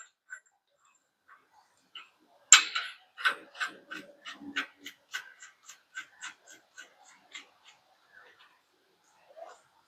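A nut going onto an axle hub and being tightened produces a run of sharp metallic clicks and ratcheting ticks close by, bunched together at first, then spacing out and fading.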